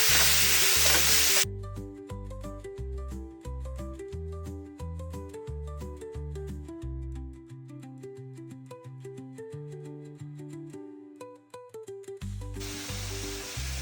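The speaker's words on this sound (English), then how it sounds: "We're gonna add in our beef that has been marinating. I'm just gonna add it right in." Marinated beef fries in hot oil for Kung Pao beef. A loud broadband sizzle opens and closes the passage, and a melodic music bed plays in between and largely covers it.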